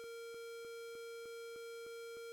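In a video game, an alarm siren sounds in a facility breach scenario: a steady electronic tone repeats in rapid, evenly spaced pulses, clean and synthetic with no voices over it.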